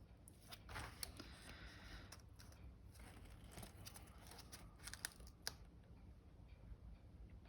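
Scissors trimming paper for a 12 x 12 inch scrapbook journal, with several close, quiet snips and paper rustles at an uneven pace and no talk.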